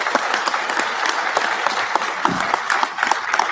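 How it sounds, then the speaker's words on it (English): Conference audience applauds a presenter after a session talk: a steady wash of many hands clapping, fairly loud and close, with occasional sharper individual claps standing out. "let's give Phil a round of applause"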